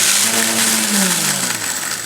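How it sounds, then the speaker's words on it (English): A countertop blender briefly grinds coffee beans coarse, a loud whirring roar that holds steady with a falling motor pitch over about two seconds. "I literally blended it for like 5 seconds"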